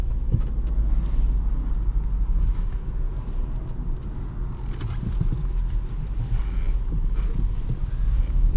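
Jaguar XF 5.0 V8 S Premium Luxury four-door saloon on the move, a steady low engine and road rumble with some wind buffeting, heard from inside the car, no talking.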